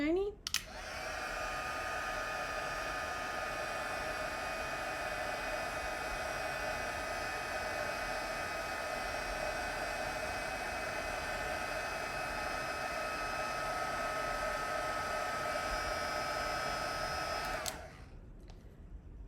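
A heat tool melting embossing powder blows a loud, steady whir close by that runs unbroken for about seventeen seconds, then cuts off.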